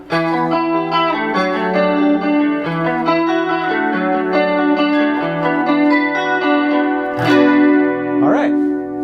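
Clean electric guitar on the front pickup through a Roland JC22 amplifier, playing a melodic line with sustained chords, warm and rounded in tone, with a touch of chorus shimmer and a brief pick scrape near the end.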